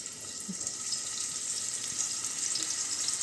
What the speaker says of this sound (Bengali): চলুন আমি এখন উচ্ছেগুলোকে আগে ভেজে নিই